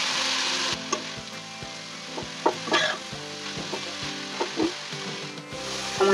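About one and a half thick bunches of coriander leaves sizzle loudly and steadily in a pan as their water cooks off, with regular scraping and knocking from stirring throughout.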